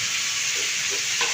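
Butter melts and sizzles in a pan, a steady close-up frying hiss with a few soft stirring scrapes near the end and no voices.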